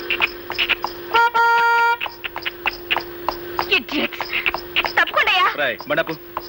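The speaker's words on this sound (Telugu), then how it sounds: "హార్న్ మోగుతుంటే వినపడలేదు" A car horn honks from behind on a road in a Telugu comedy film scene, sounding as a sustained blare under lively overlapping talk and background music.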